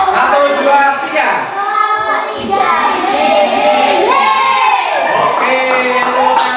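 Schoolchildren shout and cheer together for a classroom group, loud overlapping young voices in a chorus with whoops, crowded and close.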